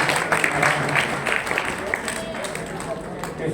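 Applause from an audience welcoming a guest at an ashram ceremony, heard as a dense, continuous wash of many hands clapping together at a fairly close, steady loudness.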